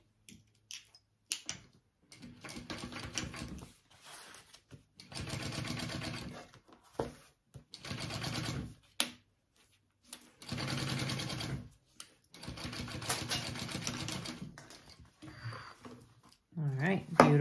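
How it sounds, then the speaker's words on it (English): A sewing machine top stitches along the top of a fabric bag in several steady bursts of close whirring, broken by short pauses and soft handling clicks. "Top stitch on the top here."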